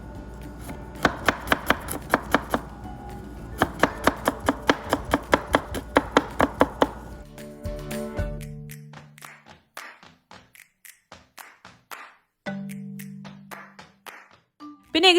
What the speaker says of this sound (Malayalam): ഞാൻ കുറച്ച് വെളുത്തുള്ളി എടുത്തിട്ട് ഒന്ന് സ്ലൈസ് ചെയ്തെടുക്കാൻ പോവാണ്.